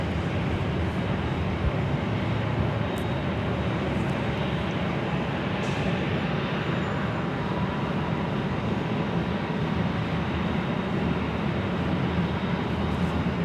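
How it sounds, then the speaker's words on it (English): Delta Airlines Airbus A321 passing at LAX, a steady, loud broadband jet roar that fills the whole stretch without fading, heard close and alone. "That was Delta Airlines Flight 424 heading to Minneapolis in the A321."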